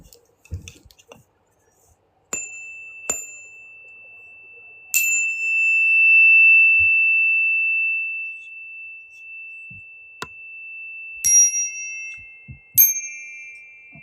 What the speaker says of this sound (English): High-pitched ringing sounds, good for cleansing the environment.